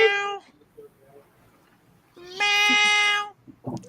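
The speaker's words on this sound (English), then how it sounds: "Meow." A domestic cat meows twice indoors, a short call followed by a longer, drawn-out one, close and clear with quiet room sound between.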